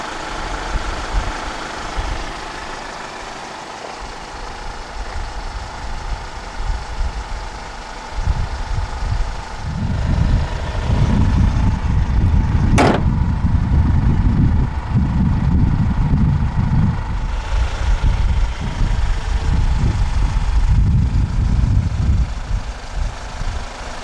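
A 2013 Hyundai Grand Starex Royale's 2.5 CRDi diesel engine idles at a low rumble, then cranks with a sharp catch and settles into a louder, heavier diesel idle that runs steadily to the end.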